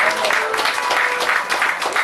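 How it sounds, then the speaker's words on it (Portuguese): A church congregation claps during a worship service, a brief burst of dense, steady applause from many hands, close and loud, with faint voices mixed in. "Pode voltar para o seu lugar, dando uma linda salva de palmas para o Senhor."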